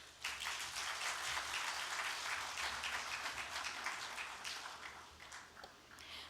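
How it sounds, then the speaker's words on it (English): A conference audience claps for the chief guest in steady, dense applause that swells at the start and slowly fades toward the end. "Please give our chief guest a huge round of applause, everyone."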